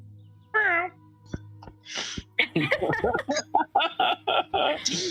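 A single short, clear cat meow close by, quickly followed by people talking and chuckling.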